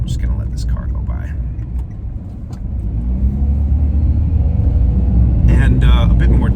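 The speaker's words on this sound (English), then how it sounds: "I'm just going to let this car go by." A car passes on a road beside wild forestry land, its broad low rumble swelling steadily and staying loud toward the end, with a person speaking over it at the start.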